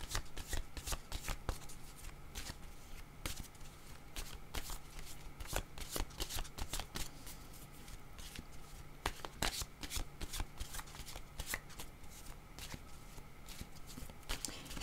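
Tarot cards being shuffled close up, a continuous dense run of rapid riffling clicks and flutters that keeps going for the whole stretch, with no speech over it.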